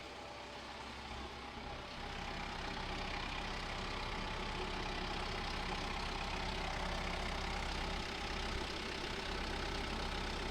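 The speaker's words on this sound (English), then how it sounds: "We'll turn on the hydraulics," Old farm equipment with its hydraulics switched on and spinning, a steady loud engine-driven drone with a low rumble and mechanical hum running continuously and close, with no talking.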